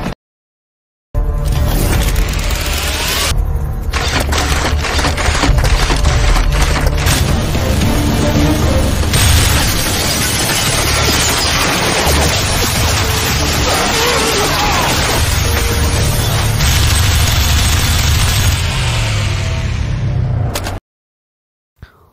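A robot weapon in an action film rakes a hail of bullets across a scene of fighting with terrorists, a loud dense barrage of booms, crashes and rattling impacts that lasts about twenty seconds before cutting out.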